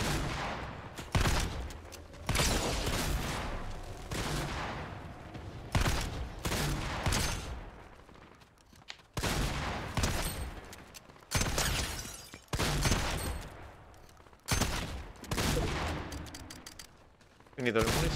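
Repeated bursts of gunfire in a video game, loud and close, firing in clusters with short gaps until the ammunition runs out, with a player's voice talking at times between the shots.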